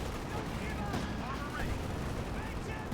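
A tank destroyer's gun fires on a Puma armored car in the Company of Heroes 2 strategy game, its heavy shot folded into dense ongoing battle noise beneath a talking voice.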